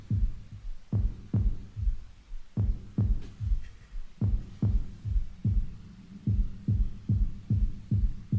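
Deep synth bass built on a kick-like thump, its filter swept by an LFO, pulsing in steady repeated hits with a throbbing, wobbling tone at moderate level, alone.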